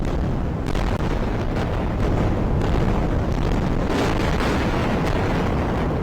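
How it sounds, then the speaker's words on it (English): Continuous heavy rumbling explosions from bombing in Gaza, a dense, loud roar of blasts with no clear gaps. "Gaza was cut off and the bombing began"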